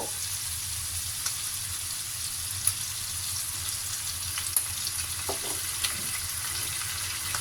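Tofu being stir-fried in a little sesame oil, a steady broad sizzle with faint scraping stirs and a few small clicks throughout, fairly quiet and with no voices.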